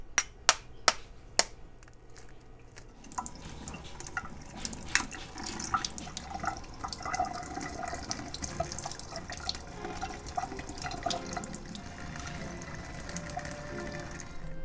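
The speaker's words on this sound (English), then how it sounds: "I also like to peel them under cold running water" Cold tap water runs steadily over freshly boiled eggs as they are peeled at a sink, opening with a few sharp clicks before a continuous splashing stream settles in at close range.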